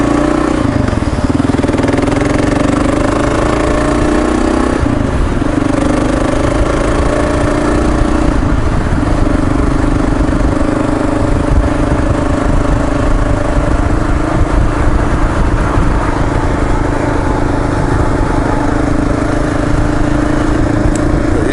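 A Kawasaki KLR motorcycle engine drones steadily and loudly while riding on a commute to work, a constant mid-pitched hum with wind noise and no talking.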